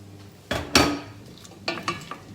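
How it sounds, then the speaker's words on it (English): Potatoes frying in oil in a pot for soup, stirred in a home kitchen: a few loud scraping, clattering stirs against the pot over a soft background sizzle, with quieter knocks trailing off. "I'll stir it so that the oil covers the potato properly"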